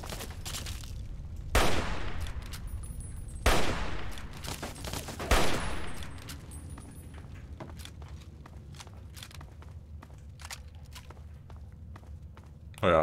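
Gunfire in Fallout 3: three loud, sharp bursts spaced about two seconds apart, each with a ringing tail, followed by scattered lighter shots and clicks over a low rumble.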